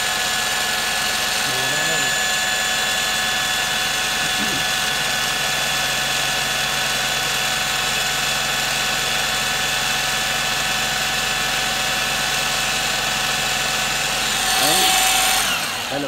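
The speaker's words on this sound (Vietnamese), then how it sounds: "Và chúng ta tiến hành cho khoan chạy." An electric drill fitted with a 24 socket runs steadily during alternator diode replacement work on a Matiz Spark car, a loud continuous motor whine held for the whole stretch.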